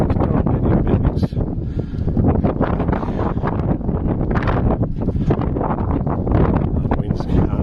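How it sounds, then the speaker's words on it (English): Strong wind blasts across the carpeted promenade deck of a cruise ship, roaring and buffeting the microphone in loud, uneven gusts throughout. "the wind's coming straight for us"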